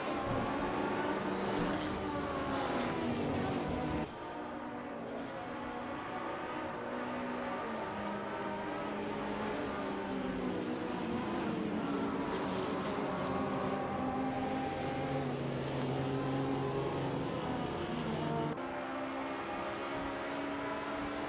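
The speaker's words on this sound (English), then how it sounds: "We are currently watching a racing simulator with AI drivers." Race car engines in an AI racing simulator video game at Road Atlanta, a continuous layered drone with pitch rising and falling as cars shift gears and pass, some engine notes sweeping by.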